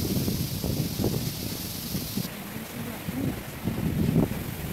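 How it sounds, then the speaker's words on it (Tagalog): Strong gusting wind from tropical storm Kristine roars and buffets the microphone, a loud, continuous rushing that swells and eases, with rustling debris and no clear voices. "Lakas ng hangin guys, oh. Grabe."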